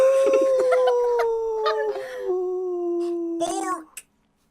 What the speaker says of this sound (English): I hear a howl.